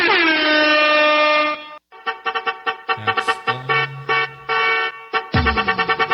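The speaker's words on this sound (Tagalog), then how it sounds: "Kaning air horn." An air horn sound effect fired from a Bonkyo F999x mixer blares with a long sustained harmonic blast, then a run of rapid stuttering horn bursts follows, loud and close with no talking.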